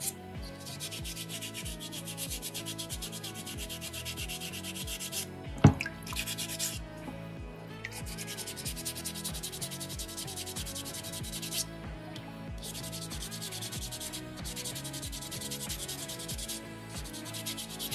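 Sandpaper rubbing over a soapstone beaver carving, a continuous close scratchy back-and-forth scrape in steady strokes, with a sharp tap near the middle and brief pauses, no talking.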